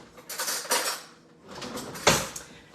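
A spoon picked up from among kitchen dishes, a few light clinks and rattles of metal against crockery, in two short bursts close at hand.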